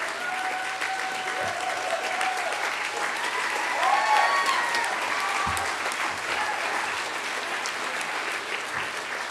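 Sustained applause fills a convocation hall, a dense, even wash of many hands clapping without pause, with a few thumps and faint voices underneath.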